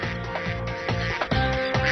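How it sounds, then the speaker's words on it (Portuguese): A duck quacks in a rapid series of close, loud calls with short gaps, part of an echo test run on a Mythbusters segment about whether a duck's quack echoes. "Ao ouvir o grasnido de Bob, ele liga o microfone principal que está a alguns metros de distância."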